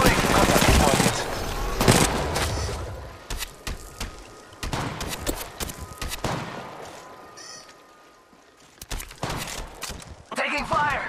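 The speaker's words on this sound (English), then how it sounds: "I'm taking fire." Gunfire in the video game Apex Legends, with loud bursts of automatic fire and scattered single shots spread across the clip, under a man's speech.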